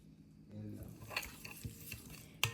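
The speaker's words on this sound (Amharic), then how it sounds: "ሁሉንም በአንድ ላይ እንደዚህ እናቀላቅለዋለን ማለት ነው።" Soft scraping and stirring of a chicken spice marinade of lemon pepper, black pepper and mustard in a bowl, with a few light clinks of a spoon against the side; a quiet background.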